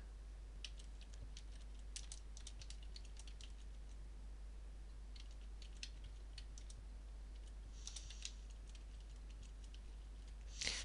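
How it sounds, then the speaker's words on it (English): Typing on a computer keyboard switched into overwrite mode, with sparse, faint key clicks in irregular bursts over a steady low hum, a few louder taps near the end. "Now, let's see what happens when I type."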